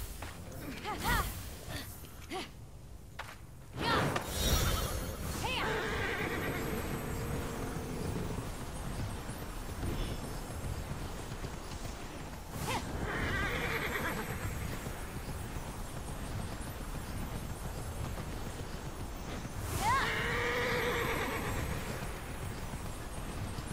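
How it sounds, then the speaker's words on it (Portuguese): Horse neighs and clip-clopping hooves from the video game Immortals Fenyx Rising on Xbox Series S, with a few bursts of whinnying over steady hoof and game ambience, moderately loud, with occasional talk. "porque o cavalo não pula"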